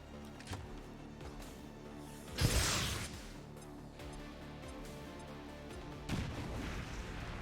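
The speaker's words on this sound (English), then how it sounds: "Grenade out!" A grenade goes off in the video game XCOM 2, giving a fairly faint boom followed by a second thud under a continuous game soundtrack.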